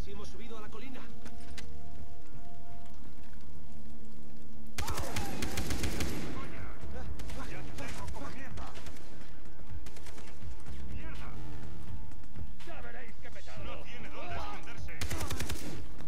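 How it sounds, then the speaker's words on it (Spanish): Gunfire erupts in Far Cry 3, a loud burst of shots after a quieter stretch of game ambience, with another burst near the end, while someone talks over the action. "Mierda, le dispara a mi colega."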